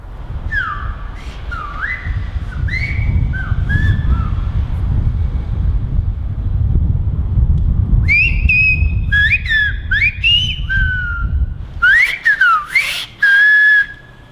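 Whistled Canarian speech from Gran Canaria, made with or without fingers: a run of clear, sliding whistle phrases with rising and falling glides, broken by short pauses, over steady wind and surf noise in an outdoor setting.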